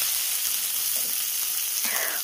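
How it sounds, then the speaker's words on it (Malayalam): Soy sauce hits half-cooked vegetables in a hot pan for Chicken Manchurian, setting off a loud, continuous hissing sizzle with faint crackles, heard close up and alone. "അതിലോട്ട് ഞാനൊരു 2 table spoon soya sauce add ചെയ്യുന്നുണ്ട്."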